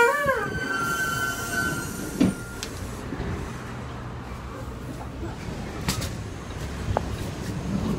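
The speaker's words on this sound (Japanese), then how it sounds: "バスが今からこう来るんですね。" A city bus in Myanmar pulls up to a stop with a brief brake squeal at the start, then a steady rumble of engine and road traffic with a few faint clanks.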